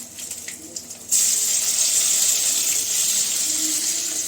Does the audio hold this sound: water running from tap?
yes